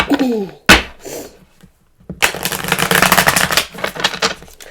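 A deck of tarot cards is shuffled up close, a quick riffle followed by a longer burst of rapid flicking and papery clatter.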